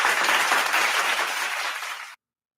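Applause sound effect of a crowd clapping, dense and steady for about two seconds before cutting off abruptly into silence.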